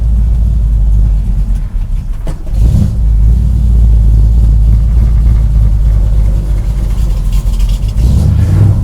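A 1973 Dodge Dart Swinger's engine runs loud and steady, close up, with a rumbling drone and a dip in the middle of the run. The car has an annoying whine and rattle.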